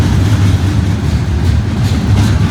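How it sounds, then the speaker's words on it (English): Train rolling past on the former B&O railroad: a loud, close, continuous rumble with heavy low engine drone and steady wheel clatter, no voices. "15 seconds later another train comes through."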